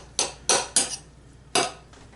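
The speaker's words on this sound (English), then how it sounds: "I'm going to stir this together" Spoon clinking against a bowl while stirring a bacon, onion and pepper cheese ball mixture, four sharp scraping knocks in an uneven rhythm with a fainter fifth, close and fairly loud.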